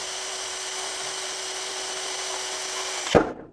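A Fixtop 1000 Nm cordless impact wrench runs at speed 3 while tightening, giving a steady, loud, high-pitched whine that holds for about three seconds, then stops abruptly with a short thump.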